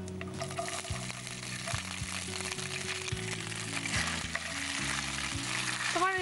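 A spatula stirs dried red chillies, cumin and grated coconut in a pan, with a steady low sizzle and occasional scrapes running beneath louder background music.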